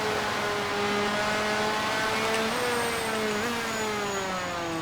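Motorcycle engine in the MotoGP 4 racing game at Phakisa Freeway, loud and close, revving with pitch stepping down and back up through downshifts, then rising steadily.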